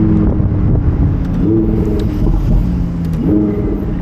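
A Lamborghini Huracan Evo Spyder's 5.2-liter naturally aspirated V10 revs and pulls hard with a throaty, rising growl, repeating surges over a rumbling background.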